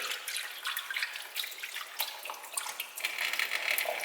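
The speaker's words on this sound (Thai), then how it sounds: "ล้างถ้วยเล็ก" A small cup being washed under a running tap at a kitchen sink, with water splashing and dripping in a steady close stream and light clinks of handling, no talk.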